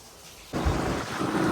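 Rain falls with thunder on a Navratri evening. The scene starts quiet, then a loud, close thunder rumble breaks in, followed by steady, dense rain hiss.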